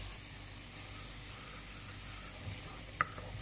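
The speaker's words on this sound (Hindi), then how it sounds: "हम इसको भून रहे हैं" Chana dal frying in a pan gives a faint, steady sizzle throughout, with a single small clink near the end.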